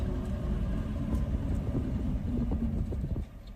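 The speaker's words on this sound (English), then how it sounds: "So let's go for a little drive down the beach." An old classic truck rumbles along a sunny Queensland beach, a steady low engine drone with road roughness, fairly faint and without talk.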